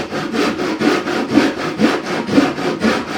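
A handsaw cuts through a 2x4 wood stud during a kitchen countertop sink installation, with loud, close, rhythmic back-and-forth strokes at a steady pace of about two per second.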